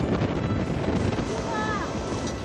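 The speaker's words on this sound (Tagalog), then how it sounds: "na sinabayan ng paghampas sa malalaking alon sa baybayin" Heavy typhoon surf and wind on the coast of Cagayan, Philippines, rumble together in a steady roar, large waves churning and breaking amid gusty buffeting, with a faint whistling tone briefly above.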